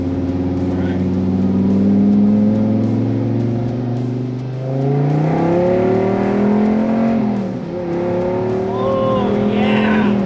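A Dodge Viper drives on a road with deep ruts, its engine droning loudly from inside the car and rising in pitch as it accelerates and shifts, with people talking over the engine.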